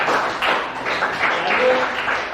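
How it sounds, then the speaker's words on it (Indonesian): Classroom applause for a student group presentation in a physical education class, a steady patter of many hands clapping at moderate volume for a couple of seconds, with some voices mixed in. "Berikan aplaus dulu teman-temannya"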